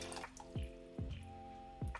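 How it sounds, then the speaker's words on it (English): About two cups of water pour into a cooking pot as a few faint, hollow glugging plops spaced unevenly over a quiet background. "I've got about 2 cups of water here. I'm just going to get this ready and just pour this in there."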